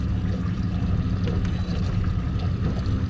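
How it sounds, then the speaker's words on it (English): Steady low hum of a boat's trolling motor running on the water during a fishing trip, a continuous near drone with faint water movement and no talk. "what I'm gonna do is I'm gonna use the trolling motor to get me"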